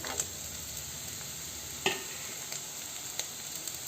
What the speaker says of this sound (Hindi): कनिक देर हम ई मटर के और गाजर के फ्राई कर लेबै